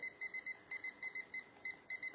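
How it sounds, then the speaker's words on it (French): A small kitchen minuteur being set, giving a rapid series of high, bright ticking clicks in a steady rhythm, close and fairly quiet, with no one talking. "Ça, c'est le petit minuteur que vous trouvez sur la boutique."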